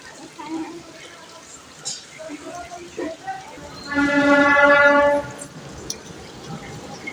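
Amid scattered nearby voices, a train sounds a loud, sustained horn blast for about a second, then fades back to background chatter.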